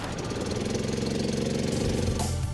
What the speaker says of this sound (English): It's a V8 engine that produces 650 horsepower.